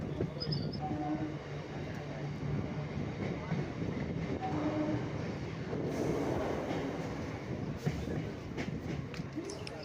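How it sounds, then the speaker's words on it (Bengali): A train running through Boinchi village station in Hooghly makes a steady, rumbling clatter of wheels on rails for the whole stretch, with people talking faintly inside the carriage. "ট্রেন যথারীতি তার নির্দিষ্ট পথে বইঁচি গ্রাম স্টেশনকেও পার করে এলো"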